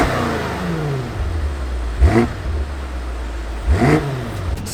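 A 2019 BMW M5 engine idles with a deep, loud rumble, broken by two sharp revs that rise and fall about two seconds apart, heard up close with no talking.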